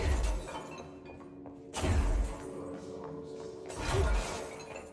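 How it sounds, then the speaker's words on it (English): Glass windows shatter in the video game Control as Jesse crashes through them, with loud crashing bursts near the start, around two seconds and again near four seconds, each followed by tinkling debris over a busy game soundscape. "Jesse should have so many glass cuts and bruises for crashing through windows"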